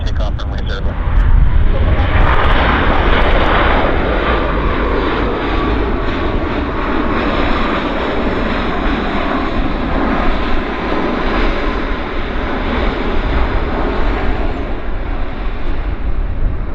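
A Boeing jet airliner takes off at Vancouver airport with a loud, steady engine roar that fills the whole stretch without letup, while voices talk over it.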